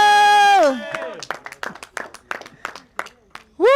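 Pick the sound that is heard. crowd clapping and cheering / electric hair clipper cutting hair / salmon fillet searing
crowd clapping and cheering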